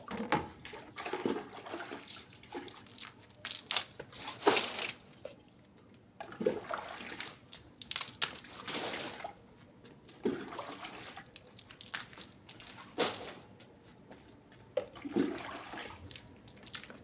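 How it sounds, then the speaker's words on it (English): Water dropped from above onto a building test system like rainfall: uneven splashing and trickling surges come and go over several seconds, fairly quiet and close, with no talk. "now I will be irrigating this particular system with dropping of water from top, like natural rainwater."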